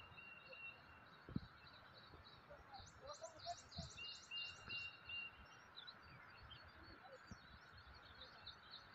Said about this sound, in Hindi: जब आपको परिंदे चहकने की आवाज़ें आती हैं